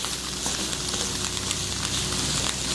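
Bacon sizzles steadily in a hot pan as it is stirred through, a dense, close, continuous crackle with no voices.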